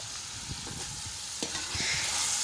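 Chilies and tomatoes fry in a pot for a beef pulao, a dense, steady sizzle running throughout with soft, repeated stirring scrapes and a few light knocks, up close and moderately loud.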